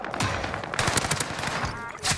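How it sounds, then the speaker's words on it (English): Rapid gunfire in Call of Duty: Warzone: loud, close bursts of automatic shots crackle in quick uneven volleys, with a final heavy burst near the end. "He's shooting me, he's shooting."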